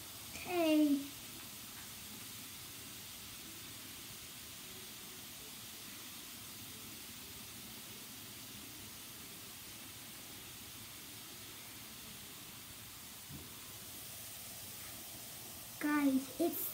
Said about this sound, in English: it's still fizzing, even if I took it out of the water